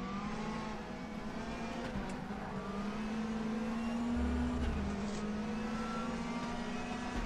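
Race car engines drone steadily in a racing video game, a sustained loud engine tone with slow pitch rises and dips as the cars run close together, with no talking.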